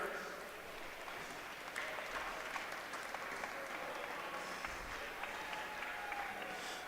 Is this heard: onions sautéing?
no